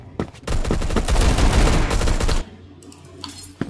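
Sustained automatic gunfire in the online shooter Phantom Forces, a loud rapid burst of shots running about two seconds before cutting off, followed by quieter game ambience and a few faint clicks.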